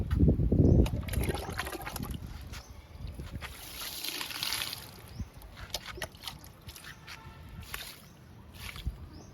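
Liquid fertilizer is poured onto a jasmine plant in a home garden, giving a soft, uneven trickle and splash against a noisy outdoor background, with a heavier gush at the start.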